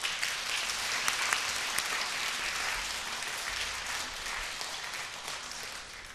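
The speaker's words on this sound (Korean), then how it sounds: "우리 축하 박수 한번 받읍시다." A church congregation applauds newlywed couple during a Sunday morning worship service, steady dense clapping filling the hall throughout, loud and sustained with no voices over it.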